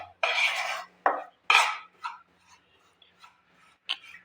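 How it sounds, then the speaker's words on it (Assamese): A spoon scraping and stirring roasted atta with ghee in a pan for Assamese atta peda, several distinct rasping strokes at first and then softer, sparse scrapes, close and fairly quiet with no voices. "ঘি দি মই আৰু এইখিনি ভালদৰে লৰাই থাকিম।"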